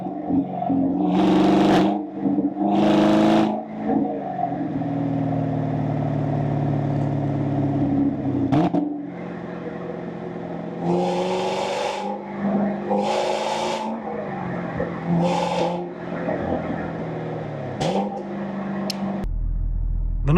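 A Chevrolet Camaro SS 1LE with dual-mode exhaust in track mode roars through repeated hard accelerations in third and fourth gear, loud close exhaust with rising revs, sharp shifts and brief lifts between pulls.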